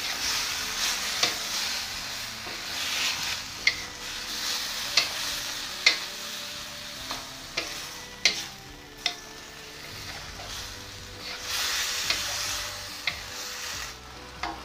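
Fried shrimp and chopped spring onions are tossed in a pan with oyster sauce, a steady close sizzle broken by frequent sharp clinks and scrapes of the utensil against the pan, with no talking.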